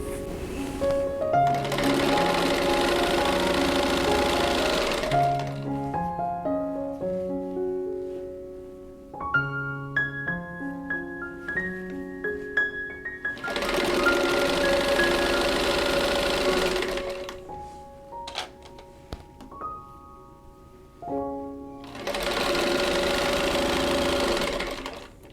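A sewing machine joins the short 2.5-inch edges of fabric rectangles for a whirlpool quilt block. It runs in three loud, whirring bursts of several seconds each, with gentle piano-like music filling the pauses between them.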